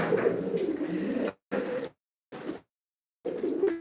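Racer pigeons cooing close by in a loft, several low throaty coo phrases in separate bursts broken by short silent gaps.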